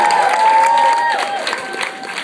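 A live audience applauds and cheers for a DJ at a modern dance performance event, with sustained, fairly loud crowd clapping that thins out toward the end, and no talking over it.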